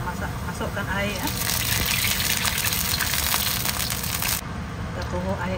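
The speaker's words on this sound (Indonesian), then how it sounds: "Dan kita masukkan air ya." Water poured into a cooking pot over frying onions, a loud continuous gushing rush that swells for a few seconds and then cuts off, leaving a lower bubbling hiss.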